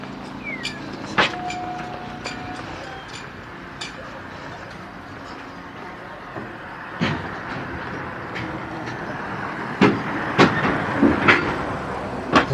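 A car rolls over loose iron floor plates on a street in Morocco, giving sharp metallic clanks and bangs scattered through steady traffic rumble, with the louder knocks clustered toward the end.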